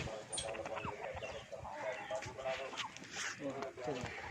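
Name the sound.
Aseel chickens on a farm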